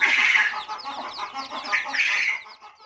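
Several hens cluck close by on a small poultry farm, a busy run of overlapping clucks and squawks that fade toward the end, with no talking.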